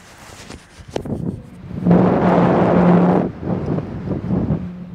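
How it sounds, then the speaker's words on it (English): Wind roars into a microphone held right up to a running device, a loud, broad rush lasting over a second, surrounded by fainter handling knocks and rumble. "let me put my microphone right up to it. You can hear that wind."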